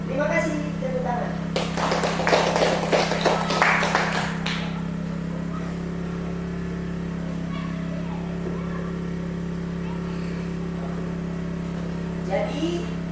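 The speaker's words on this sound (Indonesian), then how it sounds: "Terima kasih, tepuk tangan." Students clap together in a classroom, a dense burst of applause lasting about three seconds over a steady electrical hum, then giving way to quieter room noise and brief talk.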